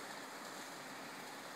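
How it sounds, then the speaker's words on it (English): Steady broadband rush of a waterfall on the Kilchis River, a continuous hiss of falling water at even level with no voices. "Waterfall is pretty."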